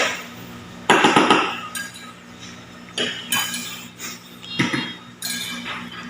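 A metal spoon clinks and scrapes against a dish of chicken feed in short bursts, close by, with repeated scooping strokes and steady background hum.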